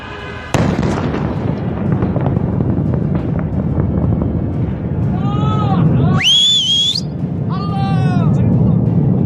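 A distant large explosion in Yemen that raised a mushroom cloud: a sudden deep boom gives way to a long rolling rumble and wind buffeting, while people shout and exclaim over it.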